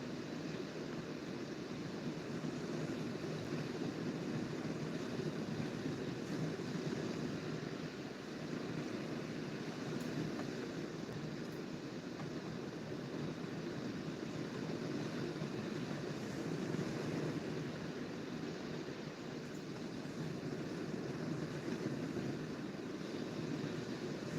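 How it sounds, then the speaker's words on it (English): Ocean waves roll steadily and softly in the background, forming a continuous hushing wash with no distinct breaks. No one speaks. "I'm just been listening to the sound of the waves."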